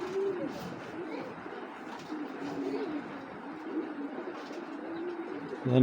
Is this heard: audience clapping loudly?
no